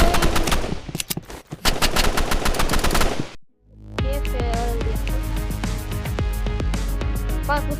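Rapid, loud handgun fire in a video game, with dense repeated shots that stop briefly for a short gap and then resume as another sustained stretch of firing.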